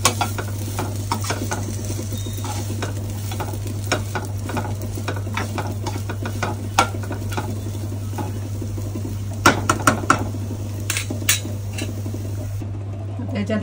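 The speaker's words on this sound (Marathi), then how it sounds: "आता हलकं गरम करते खोबऱ्यामध्ये" Grated coconut being lightly roasted and stirred in a pan for a Malvani-style egg curry masala: irregular scraping strokes and soft sizzling over a constant low electrical hum, with a few louder scrapes toward the end.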